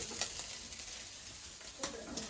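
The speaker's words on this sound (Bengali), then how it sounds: "এই লাল শাক ভাজা করবে" Red amaranth leaves (lal shak) frying in a pan give a soft, fairly quiet hiss with a couple of brief scraping clicks.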